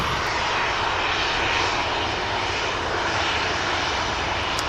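Steady, loud roar of a fixed-wing airliner's engines as the plane departs Manchester Airport, a continuous broadband rumble with no pauses and no talk.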